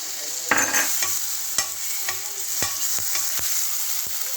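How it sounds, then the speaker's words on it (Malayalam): Ginger garlic paste is added to a hot pan while cooking Chinese chicken, giving a steady close sizzle with sharp scraping stirring clicks and knocks spaced through it. "ഇനി നമ്മൾ ജിഞ്ചർ ഗാർലിക് പേസ്റ്റ് ആണ്. ഇതാ ഗൈസ്, ഇതാ മൊത്തം ഇട്ടു."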